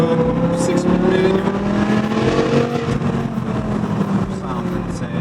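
A manual BMW M5 with a rebuilt V10 revs while driving, a loud harmonic engine drone that rises and holds close up, with a voice talking over it.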